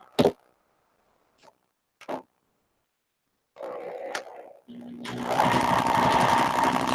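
A few short clicks and taps come first, then a sewing machine stitching a quilt starts up and runs loudly and steadily to the end.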